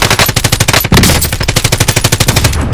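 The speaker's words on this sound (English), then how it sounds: "Oh, he just keeps shooting." Rapid automatic gunfire in Call of Duty: Modern Warfare, a loud, close burst of evenly spaced shots that rattles on for nearly three seconds with a brief heavier blast partway through.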